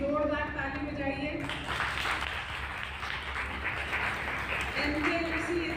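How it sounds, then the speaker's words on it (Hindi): A crowd of students and guests at a college freshers party breaks into loud, dense clapping after a voice stops, sustained for several seconds before his speech resumes over the fading applause. "जोरदार ताली बजाइए।"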